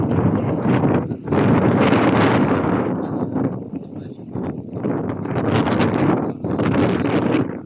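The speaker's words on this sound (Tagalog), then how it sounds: "may kasamang ulan ang hangin, kulog at kidlat" Strong gusting wind roars and buffets in waves at night, with a rushing storm wash of rain, thunder and lightning, loud and close, easing briefly before surging again.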